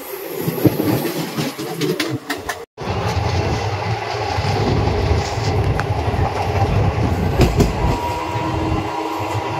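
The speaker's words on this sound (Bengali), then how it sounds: "দূর থেকে আসছে 12323 হলদিবাড়ি ত্রিসাপ্তাহিক ইন্টারসিটি এক্সপ্রেস" The 12323 Haldibari tri-weekly Intercity Express approaching from a distance, a building rail rumble with wheel clatter after a brief cut, growing steadily louder, with no talking.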